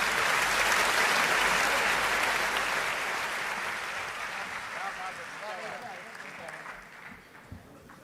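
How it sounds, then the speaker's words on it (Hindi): An audience at a Hindi poetry gathering applauds warmly to welcome a poet, loud at first and gradually fading over several seconds, with faint voices underneath. "जोरदार तालियों के साथ उसका स्वागत करिए"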